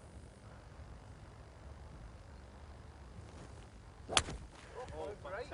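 A golf club strikes a ball out on a course: a single sharp, distant crack stands out briefly against steady outdoor background noise, with faint voices nearby.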